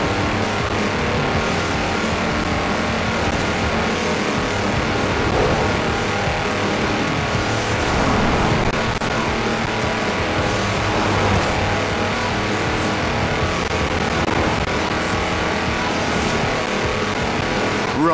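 A tractor on four-inch mud tyres races flat out in Forza Horizon 4, its engine droning loud and steady with occasional tyre squeal and no pauses.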